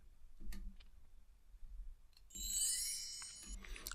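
A short chime sample used as a transition in an LMMS hip-hop beat rings out bright and shimmering after a few soft clicks, fading briefly, heard alone without talk.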